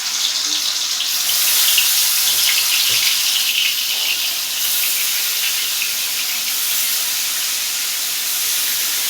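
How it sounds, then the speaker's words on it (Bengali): Pangas fish sizzle in hot oil in a pan, a loud, steady, bright crackling hiss that holds throughout with no talking. "এই যে তেলটা গরম হয়ে আসছে, এখন তেলের মধ্যে মাছগুলো দিয়ে দিব"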